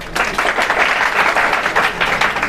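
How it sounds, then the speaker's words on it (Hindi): A room full of students bursts into loud, vigorous applause at a class session, many hands clapping in a dense, continuous roar that swells and holds. "एक बार जोरदार तालियां बजाओ अपने लिए"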